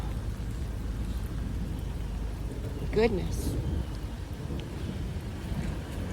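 Steady rain on a vehicle with a broken-out back window during a thunderstorm while hog hunting in Texas, a continuous dense wash throughout with a brief louder swell near the middle as a voice exclaims.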